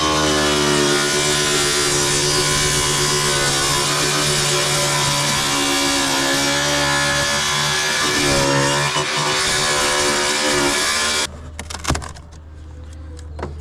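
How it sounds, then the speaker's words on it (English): A loud power saw whines steadily through a long shallow cut in a roofing panel, then stops, leaving scattered clanks and rattles. "I'm just going to cut this real shallow"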